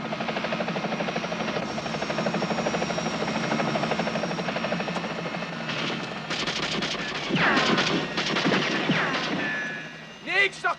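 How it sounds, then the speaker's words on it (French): Three helicopters in a 1984 action series closing in, a continuous rotor drone under music, then bursts of gunfire-like cracks and impacts near the end. "3 hélicos nous suivent. Et ils ont l'air de se rapprocher rapidement."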